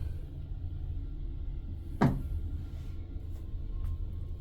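A mirrored cabinet door in a Celebrity Equinox Retreat Suite bathroom opens with a single soft knock and brief rattle, close by against a low steady hum.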